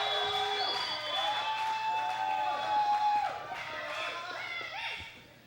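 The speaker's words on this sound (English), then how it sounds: "Murdoch getting the crowd behind him" Wrestling arena crowd at UCW-Zero cheering for Dallas Murdoch, a steady roar with whistles and shouts rising and falling, fairly distant and filling the room.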